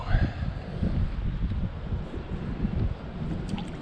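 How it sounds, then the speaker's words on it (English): Wind blows outdoors at a spring bass fishing spot, rumbling steadily into the microphone as a low, buffeting roar for several seconds, with speech partly under it. "Kind of getting blown out by this wind"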